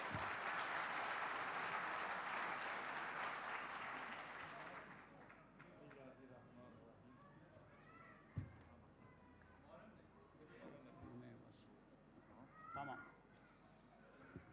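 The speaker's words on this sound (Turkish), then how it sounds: "Alkışlarınızla tabii." Symposium audience applauding loudly and steadily for about five seconds, then fading into room murmur and scattered talk, with a clear voice speaking afterward.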